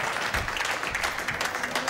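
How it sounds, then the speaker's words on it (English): A brief round of clapping from a group of police officers celebrating an arrest record, dense and steady throughout at a moderate level, with no voices over it. "can we save the applause till we actually get to 400"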